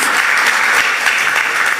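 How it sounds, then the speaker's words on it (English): Steady, dense applause from an audience at an official gathering with a Ghanaian minister present, loud and continuous throughout with no pauses. "Shall we all give a round of applause?"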